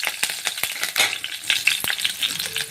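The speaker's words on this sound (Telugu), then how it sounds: "ఆవాలు, జీలకర్ర, కరివేపాకు వేసుకొని ఫ్రై చేసుకోవాలండి." Mustard seeds, cumin and curry leaves fry in hot oil for an egg masala curry, giving sharp irregular crackles and pops over a light sizzle, close and fairly quiet, with no talking.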